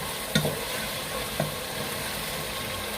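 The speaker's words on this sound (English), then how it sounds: "I start off with my carrot and potato. You know? I'm gonna make the fry up a little." Carrots and potatoes fry in a pan with a steady, even sizzle throughout, broken by two brief knocks of a utensil against the pan.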